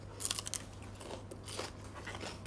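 Someone bites and chews a crunchy salad of raw shrimp with garlic, with close, crisp crunches and wet chewing in quick bursts.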